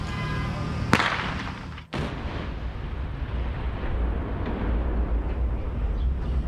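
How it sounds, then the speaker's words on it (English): A sharp blast cracks out in the controlled demolition of a collapsed BNSF rail bridge, followed by a second heavy boom a moment later, then a long low rumble and roar fading into distant outdoor noise. "That was the controlled explosion that happened just after 9 o'clock this morning."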